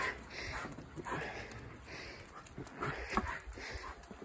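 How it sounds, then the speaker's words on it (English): A dog on Lowestoft high street reacting to another dog, giving a few short, scattered yelps and whines, fairly faint over quiet street ambience. "As you can hear by that and some camera action, Mr. Waffles was after another dog"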